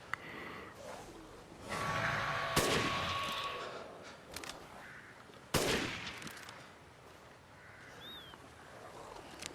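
Gunshots in the Resident Evil Village video game, a few sharp cracks spaced out across the stretch, one prominent near the middle and another later, over quiet ambient game sound.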